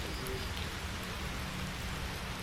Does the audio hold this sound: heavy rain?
yes